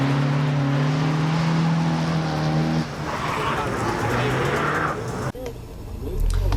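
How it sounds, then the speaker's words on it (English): A Mazda MX-5 Miata NA drift build launches at an autocross, its engine droning steadily before shifting into a rougher, noisier stretch of acceleration and a sharp break as the car pulls away. "Here you can see me take off. The Miata is going nowhere as usual."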